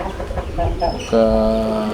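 Fighting roosters at a breeding loft give short clucks and then a sustained, tonal call, close by, with a person speaking alongside.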